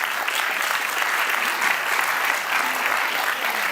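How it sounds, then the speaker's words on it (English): A sustained, dense round of applause from the audience at an international IP enforcement summit, honoring the panelists, steady and full throughout with no speech over it. "How about a round of applause for our excellent panelists?"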